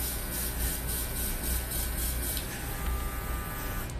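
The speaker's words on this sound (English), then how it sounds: "add a little bit of spray to the front there" Hair spray is misted onto the front of a hairline from about a foot away, a soft steady hiss heard close up and alone, with a faint background hum.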